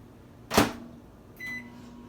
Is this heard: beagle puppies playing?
no